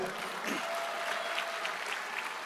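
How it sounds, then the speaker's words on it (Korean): A lecture audience at a motivational corporate talk in a convention hall breaks into a short burst of broad, even applause, fairly distant and steady throughout. "박수 한번 주세요."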